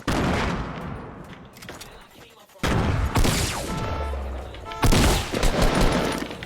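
Fortnite gunfire erupts in loud, close bursts and rapid volleys, broken by a brief lull before more shots crack out, with a player's voice mixed in.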